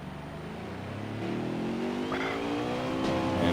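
A race car in a racing video game at Talladega plows into its pit box, a steady engine drone with rising whine and a faint skid, loud and continuous with no talk over it.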